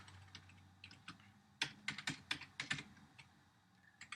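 Keys on a computer keyboard are tapped while code is typed, with scattered soft clicks that turn into a brisk, close run of sharper keystrokes before slowing again.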